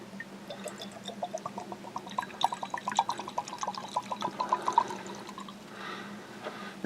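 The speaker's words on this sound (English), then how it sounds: "I shouldn't be pouring this much in case it sucks." Pinhook straight bourbon whiskey trickles from a bottle into a glass, a close, gurgling pour with rising pitch over several seconds, faint room hiss beneath and no talk.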